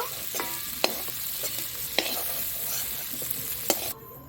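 Prawns frying in hot oil with steady, dense sizzling, broken by a few sharp clinks of a utensil against the pan, ending abruptly.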